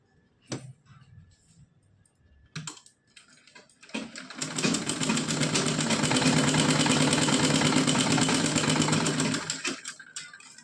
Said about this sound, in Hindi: अब हम लगाएंगे इस पे सिलाई।